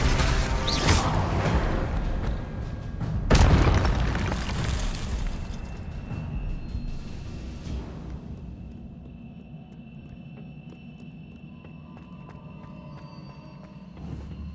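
A Confringo spell's fiery explosion bursts in Hogwarts Legacy, a sharp loud blast followed by a second boom and rumbling debris that fades into a quieter ambience with small clatters.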